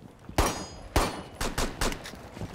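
Gunfire in Rainbow Six: about five sharp, loud shots in an uneven sequence, the first two spaced apart and the rest closer together, each a crisp broadband crack with short decay over a quiet background.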